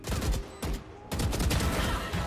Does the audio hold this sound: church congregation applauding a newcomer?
no